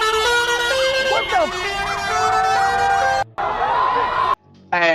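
A bus horn wails like an emergency siren in a rising and falling pattern, loud and close, in a packed crowd outside an AFCON 2025 match between Morocco and Senegal, with short breaks near the end.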